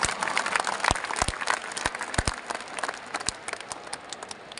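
An audience at a large youth festival in India applauds steadily, a dense wash of many hands clapping with sharp individual claps standing out, close and fairly loud throughout.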